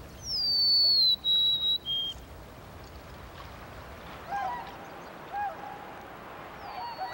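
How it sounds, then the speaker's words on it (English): Tundra swans arriving in spring give several loud, high honking calls in quick succession, followed by fainter, more distant honks against a quiet outdoor background. "Tundra swans arrive from the lower 48, honking spring's greeting to those emerging from winter dens."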